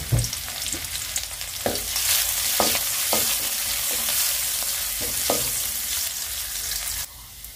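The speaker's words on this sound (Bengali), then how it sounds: "এখন ডালটাতে তেল পাড়ার জন্য পেঁয়াজ আর রসুনটা দিয়ে দেবো" Onion and garlic sizzle steadily in hot oil for dal, with a constant loud frying hiss broken by a series of sharp stirring scrapes and clatters, no voices.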